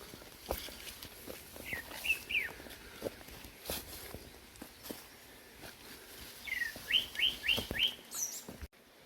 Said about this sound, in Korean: 새소리가 아주 즐겁습니다.